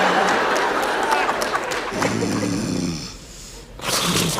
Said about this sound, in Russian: ты чё, храпишь, что ли?